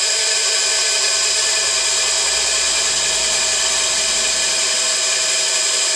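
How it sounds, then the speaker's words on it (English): Electric motor on a glass crusher running at a steady speed, a continuous close and loud mechanical hum with high whine, unchanging throughout and with no talking. "so that motor is running at its, supposedly at its nameplate RPM"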